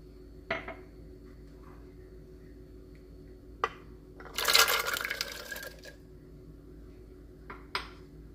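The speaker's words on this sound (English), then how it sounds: "I'm adding water." Water poured into a pot for carrot almond milk, a short splashing burst of pouring amid scattered clinks of utensils and dishes in a quiet kitchen, with no talking.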